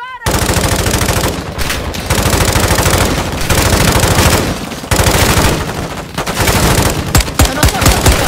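Automatic gunfire in a Call of Duty Modern Warfare II match: loud, sustained bursts of rapid machine-gun fire with brief pauses between volleys, close and continuous across the whole stretch.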